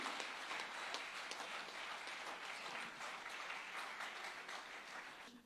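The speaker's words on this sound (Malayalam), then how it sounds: "അവർക്ക് കൊടുക്കണം നിറഞ്ഞ കൈയടി" An audience gives the parents a sustained round of applause: thick, continuous clapping from many hands, steady throughout and tapering slightly at the very end.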